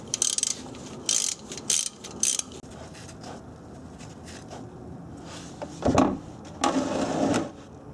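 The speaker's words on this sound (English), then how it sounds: "Once it's loose enough, I'll jump over to a 1/2-inch drive ratchet." A 1/2-inch drive ratchet loosens a bolt on a Subaru, with several quick bursts of clicking ratcheting early on, a quieter pause, then two longer louder ratcheting runs near the end.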